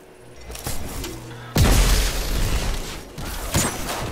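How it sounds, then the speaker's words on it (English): A thrown grenade goes off in Destiny 2 combat: a sudden loud booming blast hits after a stretch of quieter game noise, followed by rumbling battle sounds and a second burst near the end. "Toss a grenade at him."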